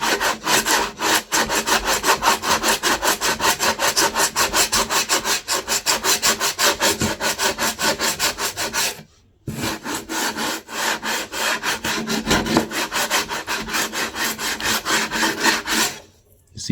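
Sandpaper rubbing back and forth along the edge of a printed picture pasted onto MVF board, a close, loud, rhythmic rasping with rapid regular strokes, broken by two brief pauses.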